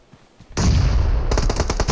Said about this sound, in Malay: Tembakan!